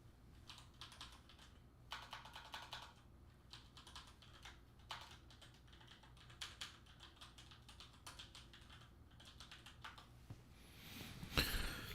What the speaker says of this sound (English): I think I can type it in now, right?